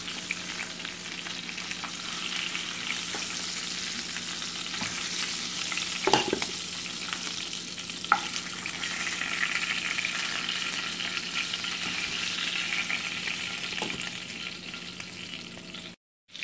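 Beef short ribs sizzle steadily while browning in a pot, a continuous close crackling fry with a few sharper spatters and utensil knocks, with no talking.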